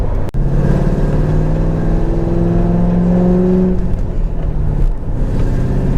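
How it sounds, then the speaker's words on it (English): A 2003 Saleen S281 Mustang, Hollywood Horsepower Edition, idles and revs close by, a loud continuous rumbling engine note that rises and falls slightly, with no voices. "So this is my 2003 Saleen S281."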